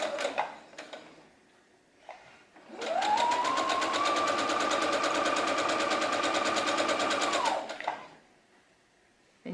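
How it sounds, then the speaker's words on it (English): A sewing machine hems the short cheek piece of an Olson mask, running in one steady, close, continuous burst of several seconds, preceded and followed by brief handling clicks. "you just turn up the hem on the short cheek piece and sew that"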